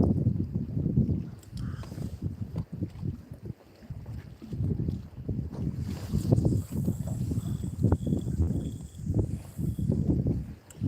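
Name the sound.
wind outdoors while fishing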